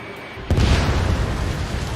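In the Ace Combat 7 jet combat game, a missile launch bursts into a loud, deep boom about half a second in, trailing off into a sustained roaring rumble.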